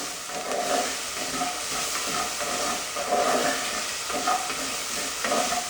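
Onion sizzling in a pot on low heat for Ecuadorian pork morocho soup, a continuous close hiss of frying with rhythmic swells as it is stirred, no talk.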